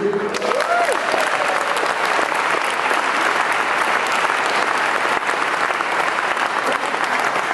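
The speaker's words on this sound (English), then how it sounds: "Don't clap too much" An audience at a union meeting's floor session applauds a speaker, a sustained and even burst of many hands clapping that stays loud and dense from start to finish.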